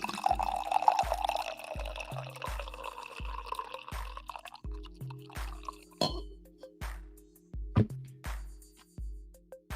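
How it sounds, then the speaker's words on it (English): Coffee dripping steadily into a cup, a quiet, regular patter of drops repeating every second or so, close by with a soft liquid trickle and no talk. "let me get the coffee pour here"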